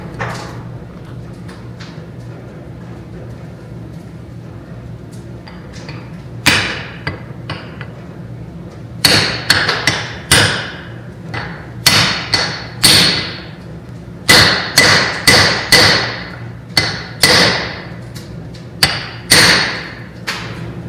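A seal is hammered into the front bearing retainer of an IH Scout 800 transmission. After a quiet start, sharp metallic hammer blows ring out close and loud, about fifteen strikes arriving singly and in quick clusters.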